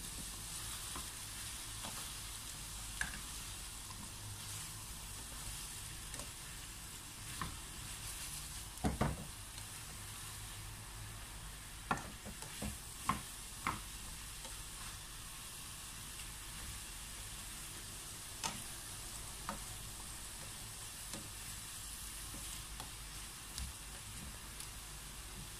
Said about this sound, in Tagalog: ilalagay na natin ang ating broccoli. And then, hahaluin po muli natin ito para mag-combine po lahat ang ating ingredients